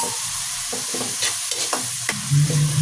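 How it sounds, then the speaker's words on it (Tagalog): Tomatoes sauté in a pan for sinigang na lechon, with a constant crackling sizzle under repeated scraping and clacking stirs of a spatula, several distinct strokes close up, then a low rumble near the end. "Igisa lang natin ng maigi itong kamatis"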